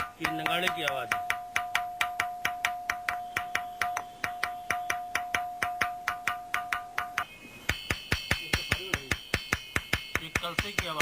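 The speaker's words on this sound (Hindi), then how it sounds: "ये नगाड़े की आवाज है।" A rock in the Banda hills is struck again and again, giving rapid, evenly spaced drum-like knocks with a ringing tone. The pitch and timbre shift partway through as the hits continue at the same steady pace.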